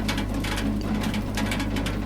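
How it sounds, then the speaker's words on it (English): Rain falls in the video game Burnhouse Lane, a steady wash of patter with soft scattered drips over a low constant hum, no voices heard. "Getting soaked in the rain like that"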